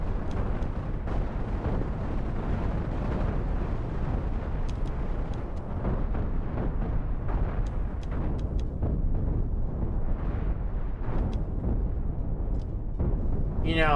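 Chain guns and deck cannons on a spaceship fire in the Cosmoteer space combat game, a dense, continuous barrage of booming blasts and rapid shots with occasional sharp cracks, loud throughout.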